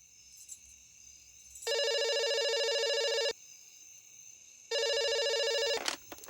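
A telephone rings indoors in two loud, steady electronic ring bursts of over a second each, separated by a pause, with quiet room background and a brief clatter at the end.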